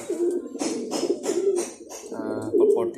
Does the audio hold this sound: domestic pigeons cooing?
yes